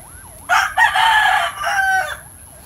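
A Milsims Cross Lemon gamefowl rooster crows once, a loud, close, drawn-out call of about one and a half seconds with a brief break early on, heard alone over a quiet background.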